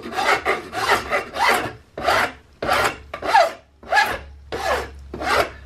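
Rhythmic hand filing of hardened epoxy on the buttplate of a CVA Hawken muzzleloading rifle, about ten steady rasping strokes in a row, loud and close with no voices.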